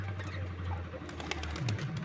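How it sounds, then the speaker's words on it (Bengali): Diamond dove chicks give soft, repeated low cooing calls from close by, steady throughout with a slight rise near the end, over a quiet background. "ঘু পাখি দুটো ছোটো ছোটো বাচ্চা দেখুন"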